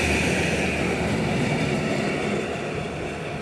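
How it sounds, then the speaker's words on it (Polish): A Polish Intercity train starts moving and rumbles along with a loud, steady roar of rolling wheels, easing slightly in volume toward the end. "po 10 minutach stania pociąg w końcu ruszył"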